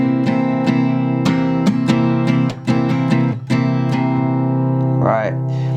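Acoustic guitar chords strummed repeatedly and allowed to ring out, sustained tones overlapping between strums, followed by a brief slide at the end.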